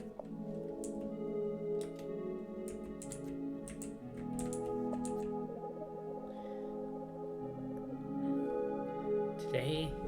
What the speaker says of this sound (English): Little clicky noises from Kiki.